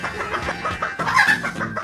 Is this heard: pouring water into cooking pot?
no